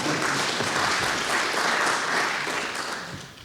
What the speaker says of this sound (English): We do a little applause for that.